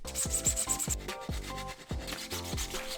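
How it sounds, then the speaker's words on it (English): Sandpaper rubbing a replica Call of Duty Taq 56 gun part in rapid back-and-forth strokes, close and loud, a steady scratchy rhythm of repeated passes with no talking. "So let's get this sanded."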